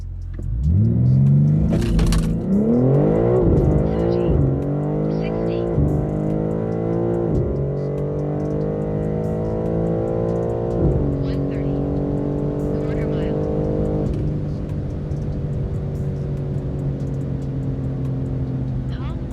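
An 850hp BMW G82 M4 xDrive accelerating hard from 60 to 130, its engine roaring loud and close as it climbs through the gears, pitch sweeping up and dropping at each shift, then holding a high steady drone.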